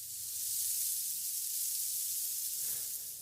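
A sizzling sound effect played in a sports podcast, a steady bright frying hiss that holds at the same level for several seconds, loud and alone with no talking over it.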